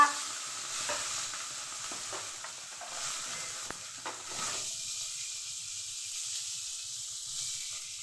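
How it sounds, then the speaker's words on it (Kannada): Dried chilies, garlic, onion and tomato frying in oil in a pan, a steady close sizzle and hiss with a few stirring scrapes, and no talking. "ಸ್ವಲ್ಪ ಹಿಂಗೆ ಹುರ್ಕೊಬೇಕು ಎಣ್ಣೆಯಲ್ಲಿ"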